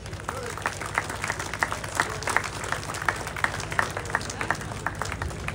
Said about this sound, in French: Est-ce qu'on peut applaudir le motoclub